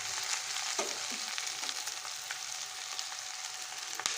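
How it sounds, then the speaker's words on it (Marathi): Okra gently stirred in a kadai, a soft continuous frying hiss with a few light scrapes and taps, quiet and close, with no voice. "अशा पद्धतीने आपण कढईमध्ये भेंडी टाकली आहे भेंडी अगदी हलक्या हाताने हलवायची"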